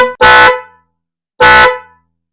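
A snail-type car horn wired through a relay, running off a fairly weak battery, gives two loud, brassy honks: one short, then a second after a pause.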